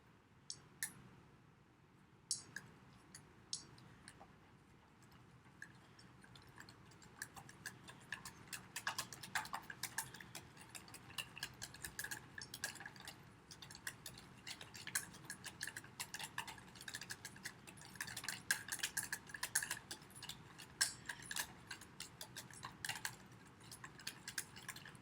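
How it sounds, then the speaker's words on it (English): A utensil stirs a mixture for a DIY monoprint plate, giving a long run of fast, light ticking and clicking against the container that stays steady and fairly quiet throughout. "And I'm going to stir this in."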